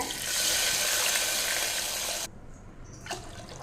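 Water pours into a cooking pot in a steady splashing stream for about two seconds, then stops, leaving a few faint drips and small sounds.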